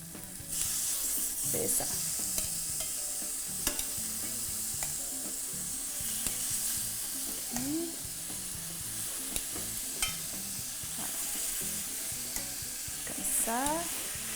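Chicken thighs frying in a pan, a steady bright sizzle with occasional stirring clinks and scrapes, while someone speaks briefly in French.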